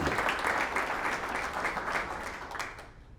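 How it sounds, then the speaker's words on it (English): Audience applause for Brandon and his team at the start of a Crypto Spring 2023 Bitcoin mining talk, a dense round of clapping that fades away toward the end. "let's make sure we're giving Brandon and the team a big round of applause"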